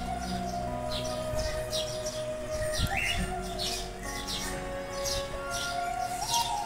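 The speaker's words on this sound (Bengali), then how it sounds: "আর ভীষণ কিচির মিচির করে পাখিগুলো" Many birds chirp and twitter in a busy chorus, with repeated short calls and a few longer whistles, steady and moderately loud throughout.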